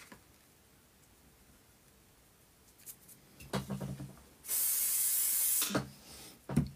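Several short spritzes, then one long hiss of hairspray sprayed onto light green model leaf cover on a scale French chateau model, close and fairly loud, with faint handling noises between the bursts.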